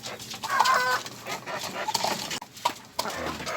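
Chickens cluck close by among farmyard noise, with scattered calls and rustling; a young chick is mentioned and other animal sounds may mix in.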